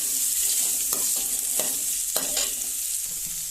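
Onions sizzle with curry leaves and dried red chilies in hot oil for a flower stir-fry, a steady frying hiss broken by several distinct scraping stirs of a spoon against the pan, close and clear.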